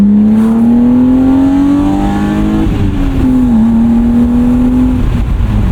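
A 1998 BMW M3 E36 with 250,000 miles and a heavier flywheel revs hard, its engine note climbing steadily, dipping briefly mid-rev, then holding high; loud and close, no talking.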